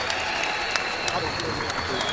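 Arena crowd at a Nottingham boxing event claps and cheers steadily, dense applause sustained throughout at moderate loudness with a voice speaking over it.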